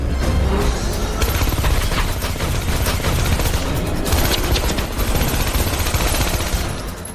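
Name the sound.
gunfire from The Transporter film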